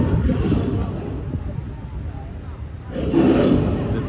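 The mechanical lion on the astronomical clock of Messina cathedral roars loudly and continuously over a crowd of onlookers, with a louder swell near the end.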